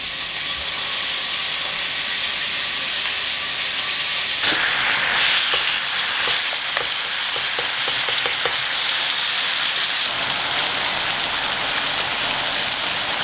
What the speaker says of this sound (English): I'm gonna fry it